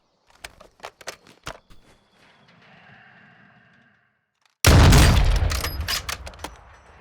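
Gunfire in the Warzone 2 video game: a sudden loud burst of heavy shooting cracks in after a run of scattered clicks, light thuds and a quiet stretch, then trails off in echoing shots.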